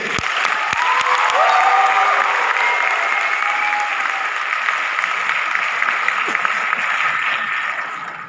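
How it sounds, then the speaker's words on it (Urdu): Sustained, full applause from a large audience honouring teachers, a steady dense wash of clapping throughout with faint crowd murmur beneath. "ان کے لیے تالیاں بجائیے"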